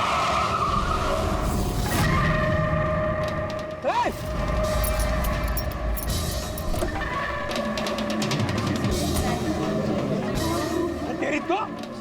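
A car's tires screech as it skids hard to a sudden stop on a road, loud and close with engine noise throughout, rising squeals near the middle and end, and voices talking over it.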